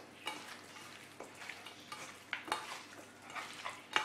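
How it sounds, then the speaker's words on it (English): Marinated chicken being mixed with spices by hand, giving soft wet squelching and stirring sounds in a steady irregular rhythm with a few sharper clicks, close and fairly quiet, with no talking. "Give a good mix with your clean hands."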